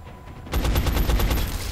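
After half a second of quiet, a loud, close burst of rapid gunfire from XCOM Enemy Unknown erupts, evenly spaced shots rattling on to the end.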